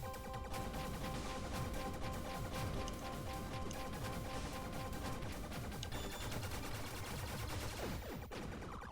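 Gunfire in the video game Blaster Master Zero, with dense, continuous rapid shots and crashing impacts as enemies are hit through walls, steady and busy throughout.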